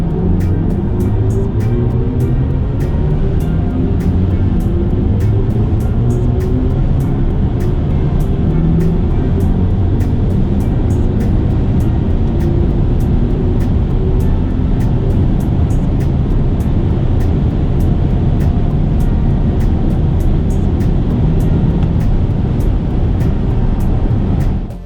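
A BMW iX M60 electric car accelerates toward its 250 km/h top speed on a German Autobahn, heard from the cabin as a loud continuous roar of wind and road noise with a slowly rising drive whine throughout.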